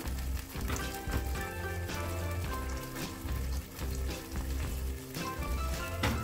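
Tomato and onion masala fries in a pan for methi matar malai, a steady crackling sizzle with soft clinks and a faint tonal hum running beneath it, no talking.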